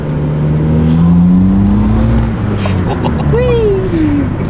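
A G Power supercharged car engine revs and accelerates hard, a loud rising drone and whine under an enclosed cabin. People talk inside the car over the engine.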